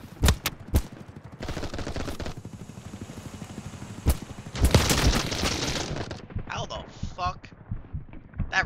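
AUG rifle fire in BattleBit Remastered, a few sharp separate shots followed by bursts of gunfire at mid distance, with people talking over the shooting.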